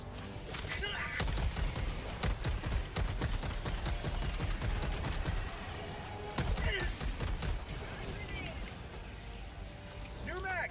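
Sentry turret gunfire in a bug-fighting video game, rapid bursts of automatic shots with thuds and explosions at moderate loudness, mixed under someone talking.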